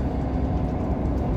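A Class 158 Sprinter Express diesel unit, 158863, rumbles past close by with a steady, loud low-pitched roar of engine and wheels and no break in the sound.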